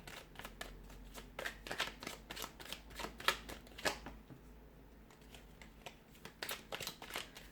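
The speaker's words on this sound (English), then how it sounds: "we'll give the cards a shuffle" Tarot cards are shuffled in quick riffling bursts, a soft fluttering patter repeated several times, close and fairly quiet with no talking.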